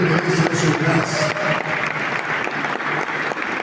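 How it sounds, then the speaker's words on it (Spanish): A church congregation applauds steadily and fairly loudly, a dense wash of many hands clapping at once, with faint voices underneath. "Aplaude fuerte"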